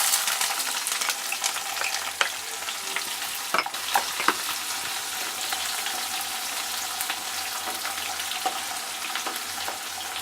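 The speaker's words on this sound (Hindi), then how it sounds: "यानी सौंफ ऐड करती हूँ। अब इसमें ये प्याज जाएगा।" Onion frying with fennel seeds in a pan, a dense steady sizzle and crackle heard up close, with a few brief stirring scrapes and taps and no voices.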